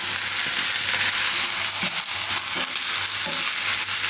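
Garlic and ginger sizzle in hot oil with cooked onions, a loud continuous frying hiss with occasional scraping stir strokes, close and alone without talk.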